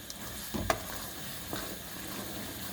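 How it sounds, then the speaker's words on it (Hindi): Peanuts stirred into a peanut chikki mixture in a pan, with soft scraping and a couple of sharp knocks against the pan, quiet and close. "अभी इसके अंदर हम शामिल कर देते हैं मूंगफली को। साथ में इसको करेंगे अच्छा सा मिक्स।"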